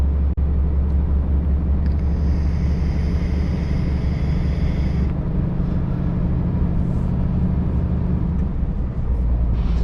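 A truck rolling along a road at night, a steady loud low engine and road rumble droning throughout with a faint higher tonal whine in the middle, close and continuous.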